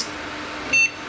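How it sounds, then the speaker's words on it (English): Single short electronic startup beep from a Sega Dreamcast HKT-0120 development kit, one brief high tone over a faint steady fan hiss, no talking. "Don't beep at me, don't beep at me. Beep once."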